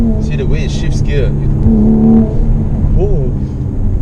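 A 2018 Mercedes-Benz C43 AMG coupe accelerates and shifts gears, a droning engine note with pitch rising and dropping at each change, heard from inside the cabin while a person talks over it.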